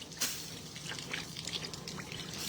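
Rainwater trickles off a roof edge at the eave and runs behind the gutter where the drip edge meets it, a faint, uneven splashing dribble that continues softly for a couple of seconds.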